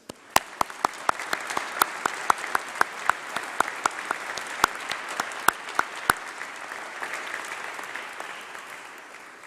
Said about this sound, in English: So let's give them all a huge round of applause and thanks.